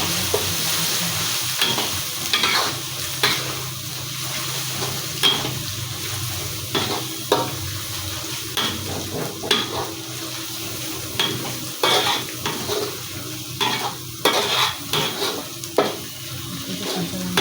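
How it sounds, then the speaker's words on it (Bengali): Potatoes and silver carp pieces being stirred through masala in a pan for fish curry, with repeated scraping strokes and utensil knocks over a continuous frying sizzle, close and steady. "এই যে এটা ভালো করে মশলাটা আবার মাখা হবে, তারপরে দিয়ে দিচ্ছে আলু, দিয়ে দিচ্ছে মাছ।"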